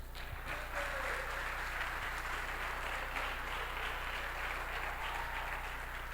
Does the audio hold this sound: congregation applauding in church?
yes